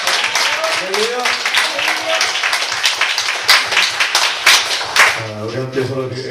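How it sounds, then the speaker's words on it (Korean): A church congregation claps together during a Sunday worship service, a sustained burst of applause under a speaking voice, followed by a few seconds of singing or chanting. "우리 큰 박수로 영광을 드립니다"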